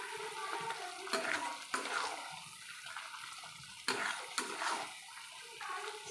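Mustard paste and poppy seed paste being sautéed with chicken in a pan: a soft continuous sizzle with irregular scraping and stirring strokes of a spoon, a few sharper clacks against the pan.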